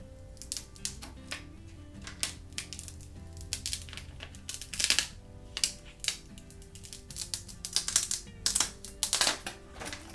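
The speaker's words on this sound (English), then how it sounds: "Now we'll just carefully peel off the transfer tape." Transfer tape being peeled slowly off a layered vinyl decal stuck onto a book, giving a run of close, crisp crackling ticks and snaps that grow denser and louder toward the end.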